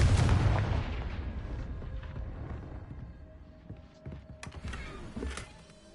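A Confringo blasting spell exploding in a Harry Potter video game, opening with a loud booming burst that rumbles and fades, followed by lighter clatter and crackling impacts.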